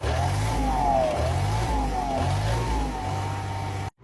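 A truck engine, rebuilt with LPM Truck Parts, runs loud and close with repeated rising and falling revs over a steady rumble, then cuts off abruptly at the end.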